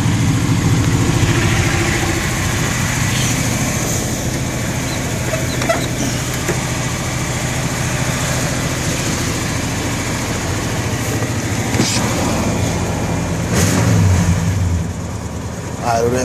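A 1993 Cadillac Fleetwood Brougham engine idles steadily close by, a continuous low rumble with a faint click or two near the end and people talking over it.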